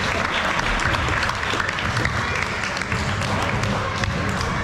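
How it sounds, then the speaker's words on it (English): A crowd at a basketball game held at the Kroc Center in Kapolei gives loud, sustained applause, steady dense clapping with cheering mixed in and no pause. "Everybody, can you give One Boundary a round of applause for them joining us this year?"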